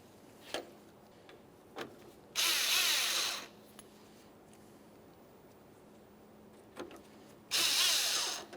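A power driver runs two short whirring bursts, about a second each, to drive Phillips head screws into the grille mounting hardware of a 1994-1997 Honda Accord. Faint clicks and taps of handling fall between the bursts.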